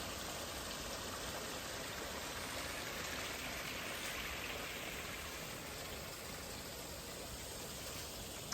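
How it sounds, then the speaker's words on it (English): Water rushes steadily past a huge tree outdoors, a constant broadband roar at moderate level with no distinct breaks and no voices. "This water coming through. Hopefully you can hear the sound."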